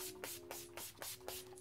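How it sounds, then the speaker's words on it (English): Urban Decay All Nighter setting spray misted onto a face: about six quick, close hissing pump bursts in a steady rhythm, alone with no talk. "I'm going to spray my face with Urban Decay All Nighter so that it'll stick."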